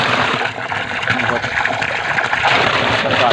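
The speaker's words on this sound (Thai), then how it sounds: "ผมก็จะกดถุงลงไปในน้ำนะครับ" A plastic bag of fermenting animal feed is pressed down into water to force the air out, giving a steady, close sloshing and gushing of water throughout.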